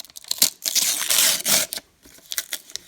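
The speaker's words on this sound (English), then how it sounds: "Time to unwrap your presents." Christmas present paper tears and crinkles up close in quick bursts, one long rip running through the middle, before a few lighter crackling handfuls of wrapping.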